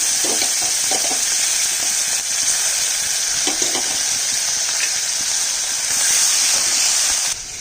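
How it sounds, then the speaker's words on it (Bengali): Onion and garlic paste sizzles loudly and steadily in hot oil for a fish curry, a dense continuous frying hiss with a few faint stirring knocks, close and with no talking. "এখন প্রথমে দিয়ে দিচ্ছি পেঁয়াজ বাটাটা আর রসুন বাটাটা"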